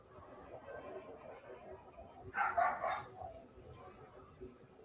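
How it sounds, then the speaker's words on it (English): A dog barks a few times in the middle distance, a short burst standing out over a low background murmur. "I hear a dog."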